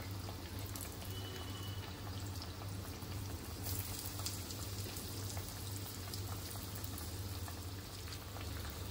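Corn cutlets shallow-frying in oil over a medium flame give a steady, dense sizzle and crackle that runs continuously from start to finish, close and even, with no talking.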